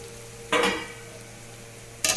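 Crushed garlic frying in oil on a low flame: a soft steady hiss broken by two louder bursts of sizzling and stirring, close by and with no talk.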